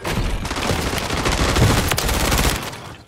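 Rapid, loud shotgun blasts crowd a video game firefight, several shots in quick succession with dense booming bursts throughout and no clear gaps.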